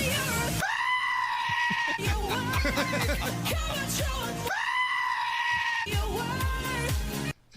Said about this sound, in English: That's a goat. That's a goat. Screaming goat.